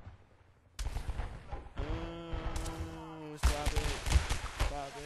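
Gunfire in Half-Life 2, several loud bursts of shots striking around an underwater and shoreline setting, mixed with tonal game effects and a talking voice.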